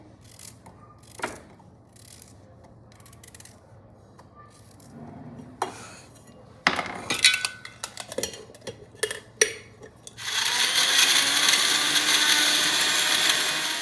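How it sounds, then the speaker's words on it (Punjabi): Kitchen grinder pulverizing thick-cut beetroot pieces for juice starts with scattered clicks and knocks, then bursts into a loud, steady high-pitched motor whine that runs to the end, close to the microphone. "ਇਹਨਾਂ ਨੂੰ ਗ੍ਰਾਈਂਡ ਕਰ ਲੈਣਾ ਇਹਦਾ ਆਪਾਂ ਨੇ ਕੱਢਣਾ ਹੈ ਜੂਸ"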